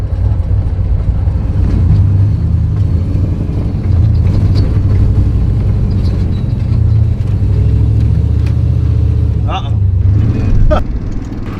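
A heavy street car's engine drones and revs steadily while bogged down in desert sand dunes, a loud continuous rumble with a brief dip near the end and voices talking over it.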